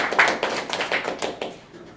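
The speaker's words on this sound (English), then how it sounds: "Round of applause." Sparse applause from a small audience at a talk, with a handful of distinct claps that thin out over two seconds and no voices.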